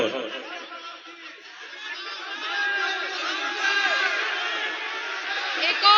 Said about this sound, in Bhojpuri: एक बार पुरजोर तालियां बजा के बताएं कि आप अपनी बेटी के साथ हैं